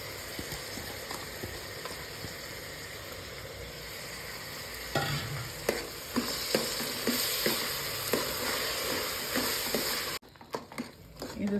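Onion chili paste sizzles and fries in hot oil in a pan, a steady crackling hiss with stirring scrapes and taps growing busier partway through, close and fairly loud; faint voices murmur beneath.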